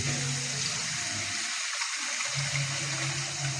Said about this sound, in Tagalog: Ilagay natin ng 1 drum na tubig.